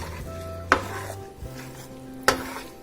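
Ground meat and chiles stirred and fried in a pan for homemade picadillo, with a soft sizzle underneath and two sharp utensil scrapes against the pan, one early and one late.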